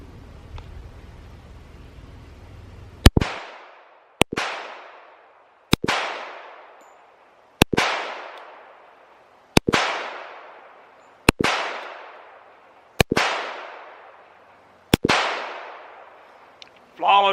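An Auto Ordnance 1911A1 pistol fires eight sharp, loud shots at targets on a range, spaced roughly one to two seconds apart, each crack followed by a fading echo.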